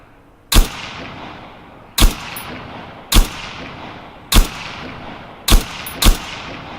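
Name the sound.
ASP-1 Kir rifle shots in video game Arma 3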